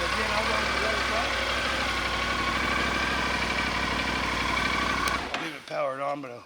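A motorcycle engine idles steadily and loudly up close, then cuts off near the end, followed by people talking.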